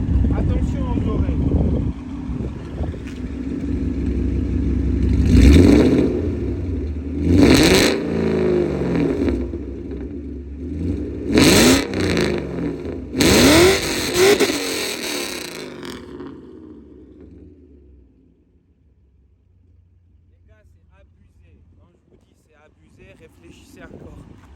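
A BMW 540i E39 V8 with a custom exhaust, idling with a deep rumble, then blipped hard in several sharp revs that rise and fall before settling back to a low idle; someone talks over the start.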